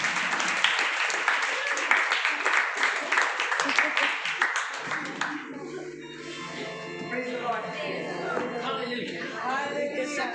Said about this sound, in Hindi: ताली बजाओ भाई के लिए।